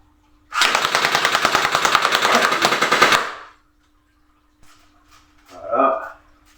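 Rapid burst of airsoft Glock pistol fire in full-auto mode, a dense run of sharp clicking shots for about two and a half seconds, followed by a short pause and a brief voice.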